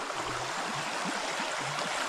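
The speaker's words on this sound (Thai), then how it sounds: "ด้านขวา ติดลำธารมากเลย" A stream flows in a deep forest, with a steady broadband rush of water and soft gurgling bubbles running continuously and fairly close, without any voices.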